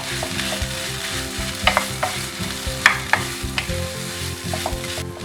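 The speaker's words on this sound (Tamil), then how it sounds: "இந்த மாதிரி மசிச்சு விட்டு இதை வந்து நீங்கள் கிளறிக்கோங்க" Mashed potato and onion mixture stirred in a pan for potato bonda filling, with steady close scraping and sizzling and repeated sharp spoon knocks against the pan.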